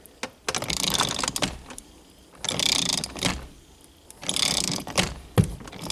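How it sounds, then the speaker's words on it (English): Several bursts of rapid metallic clicking from a hand ratchet with a 3/4 socket tightening a Firebird steering wheel nut, separated by short pauses, close up with no talking. "got my 3/4 socket on here with my ratchet. Just going to go ahead and tighten this down."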